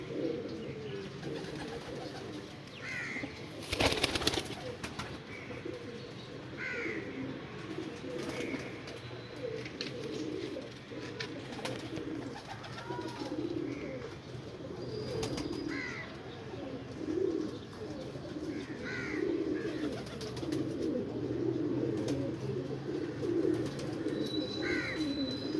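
Pigeons coo repeatedly at a steady pace against a constant hum of background noise, with a few brief knocks and faint chirps from other birds mixed in.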